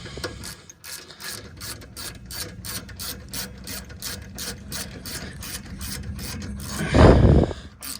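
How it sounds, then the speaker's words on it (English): Wrench ratcheting as it tightens a brake line fitting on the rear brakes of a 2009 Ford F-150, with a fast series of close, loud metallic clicks and a brief louder rasp near the end. "And get my wrench. Tighten her down."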